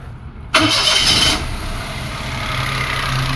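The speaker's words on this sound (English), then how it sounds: "Let's start the car and see where our pressure goes." A 2005 Toyota Passo with low fuel pressure cranks briefly after a moment of quiet, then catches and settles into a steady idle hum that carries on to the end.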